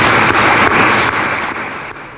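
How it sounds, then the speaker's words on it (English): Sustained crowd applause for Clayton County employees at the State of Clayton County address, a dense, steady wash of many hands clapping close by with no voices over it. "Let's give the county employees a round of applause."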